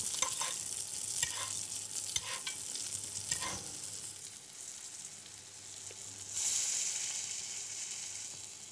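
Veal sweetbreads frying in a pan for a crispy dish, a dense close sizzle with stirring and pressing noises that swells louder near the end.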